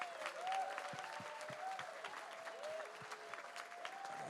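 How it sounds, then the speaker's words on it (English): Applause from a crowd at an a cappella competition, a quiet steady patter of clapping lasting several seconds. "I would love to please give a huge round of applause to our sound engineer, Raman"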